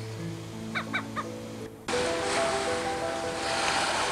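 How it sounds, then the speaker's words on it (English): Gulf of Mexico waves near Sarasota, Florida, heard as a steady, close rushing surf that swells in abruptly after a quieter opening with a few short, high chirping calls. "the incessant waves of the Gulf of Mexico, always holding a fascination for us"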